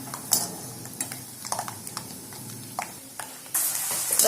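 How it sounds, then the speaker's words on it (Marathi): Peanuts frying in hot oil for sabudana chivda, a low sizzle with scattered spoon clinks and stirring taps against the pan, a louder burst of frying near the end. "आता आपण शेंगदाणे तळून घेऊया। छान क्रिस्पी असे तळून घ्यायचे आहेत।"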